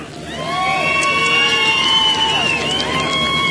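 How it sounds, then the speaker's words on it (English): Loud crowd cheering with shouts and whoops at a truck burnout competition at a truck fest in Billings, Montana, with sustained wavering engine tones running beneath the cheers. "Give her a round of applause for the Mopar."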